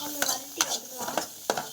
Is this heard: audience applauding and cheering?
no